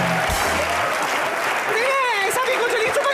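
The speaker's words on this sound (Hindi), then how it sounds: "क्या ताली बजाते रहते हो?" Studio audience applause at a televised Hindi comedy show, a steady wash of clapping that runs the whole stretch while a voice speaks over it toward the end.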